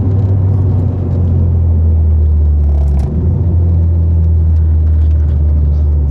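Tuned Mitsubishi Evo X engine pulls hard under acceleration while driving, a loud, steady low rumble that swells as revs climb toward the limiter, heard from inside the car with no talking.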